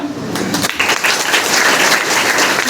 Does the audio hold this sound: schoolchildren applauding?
yes